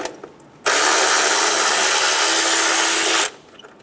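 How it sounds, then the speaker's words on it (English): A socket tool drives out the intake manifold bracket bolt on a 2005-2015 Toyota Tacoma 2.7L four-cylinder, with a 10mm socket. The tool gives one loud, steady mechanical whir lasting about two and a half seconds, with quiet before and after. "Using a 10mm socket, remove the bolt for the bracket on the side of the intake manifold."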